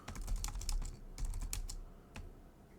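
Keys clatter on a computer keyboard in bursts of quick typing with short pauses between, close and fairly quiet, no voices.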